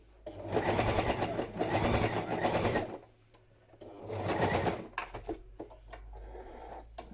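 A sewing machine stitches padded patchwork fabric for journal covers in two long, fast, rattling runs, then pauses, followed by a few short stitching bursts with faint handling noises, all close and clear.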